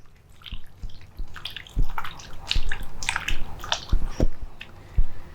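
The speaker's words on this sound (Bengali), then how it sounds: "সয়াবিনগুলো ঠান্ডা জলে খুব ভালো করে ডলে ডলে ধুয়ে নেব।" Boiled soybeans being rubbed and washed by hand in cold water for a soybean muitha recipe, a close, steady wet sloshing and squishing with splashes and drips, no talk.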